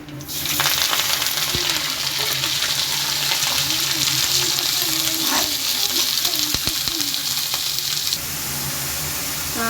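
Onions sautéing in a pan for a paneer gravy, giving a steady loud sizzle with crackling oil, a few faint clinks and scrapes of stirring, and the hiss easing slightly near the end.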